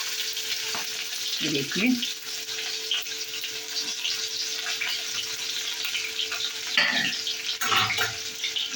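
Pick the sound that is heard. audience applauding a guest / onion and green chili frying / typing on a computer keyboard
onion and green chili frying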